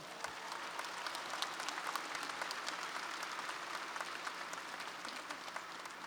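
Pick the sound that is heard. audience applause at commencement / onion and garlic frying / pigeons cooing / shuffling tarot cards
audience applause at commencement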